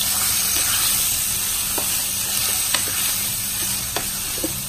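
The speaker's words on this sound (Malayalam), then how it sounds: "സോസേജ് ഇട്ട് കഴിഞ്ഞ് നന്നായിട്ടൊന്ന് ഇളക്കി കൊടുക്കണം" Chicken sausages fry in a hot pan with a steady, loud sizzle throughout, broken by a few light scrapes and taps of a spoon as they are stirred; no talking.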